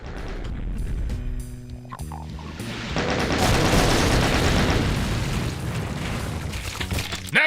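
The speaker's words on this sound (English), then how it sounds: "Still explode the same." Explosions burst through a Doom mod level. Deep booms and rumbling blasts stack loudly into a dense, sustained barrage after a few earlier choppy hits.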